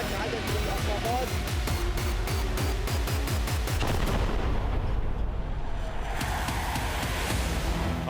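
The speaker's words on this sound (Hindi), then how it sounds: "आसमान से भीषण बमबारी।" Heavy aerial bombardment during the Gaza war: a rapid series of loud booming blasts and rumbling explosions fills the first half, then a lingering roar with more distant thuds, and speech-like sounds are mixed in.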